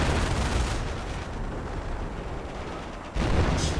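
A strategy video game battle with machine gun and mortar fire: a dense, continuous rumble of rapid gunfire and blasts that dips briefly before a sharp, loud burst near the end.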